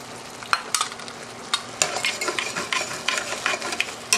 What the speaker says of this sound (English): The heat is still pretty high, so it does boil. You can see it simmering.